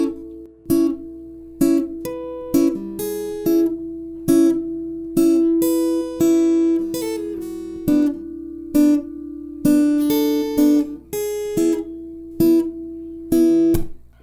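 Guitar picking the intro of a song slowly and deliberately, clear single notes and small chord shapes plucked in a measured rhythm, close and alone without talking.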